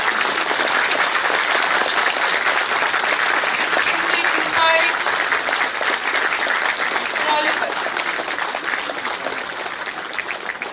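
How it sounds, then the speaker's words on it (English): An audience claps steadily and loudly at an achievers felicitation ceremony in Arunachal Pradesh, a dense, sustained round of applause lasting throughout, with faint voices and a brief tonal sound mixed in. "A big round of applause."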